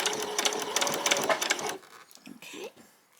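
A sewing machine runs in a fast, steady buzz as it stitches fabric for ruffled-bottom shorts, then stops short, and a few faint handling noises follow.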